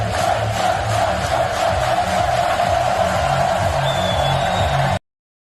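Cycling fans at the World Championships finish line cheer in a steady, dense crowd roar with scattered whoops, sustained and fairly loud throughout.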